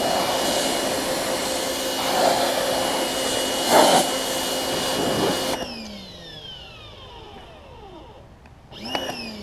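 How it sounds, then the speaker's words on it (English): A pressure washer runs steadily while spraying and cleaning tires, a loud continuous hissing roar with shifting spray tones, then the engine note winds down and drops away. "Let me turn the pressure washer off."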